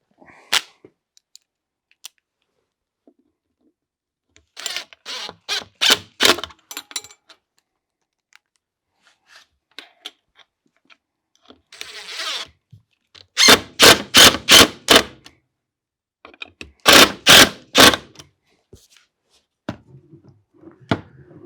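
A power driver drives screws to fix a handle onto a wooden drawer front, sounding in short whirring bursts separated by pauses, close and clear, with a few clicks and handling noises between runs.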